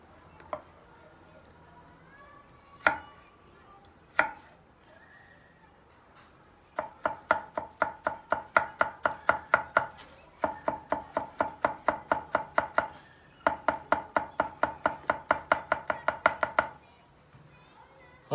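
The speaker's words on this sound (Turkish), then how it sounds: "Havuçları çok ufak doğrayacağız." Carrots being chopped very finely with a knife on a board, a few isolated knocks first, then long runs of rapid, steady, close chopping strokes separated by short pauses.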